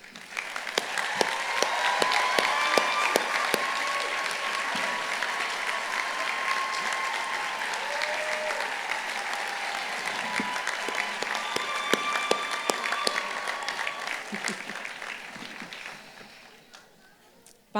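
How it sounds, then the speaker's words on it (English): A large commencement audience at the 2019 UCI School of Law ceremony applauds its faculty with loud, sustained clapping that swells, holds for over a dozen seconds, and fades. "I would ask all of you to give a warm round of applause to our incredible faculty"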